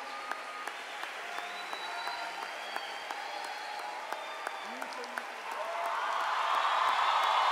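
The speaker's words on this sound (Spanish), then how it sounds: "Démosle fuerte ese aplauso a mi Jesús." Steady applause from a concert audience, rising and growing louder toward the end, with a few scattered claps and faint voices mixed in.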